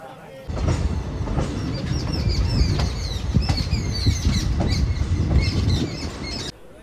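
A train between Katwa and Azimganj rumbles loudly along the rails with a continuous clatter and occasional metallic squeals. The steady roar fills the whole stretch before cutting off.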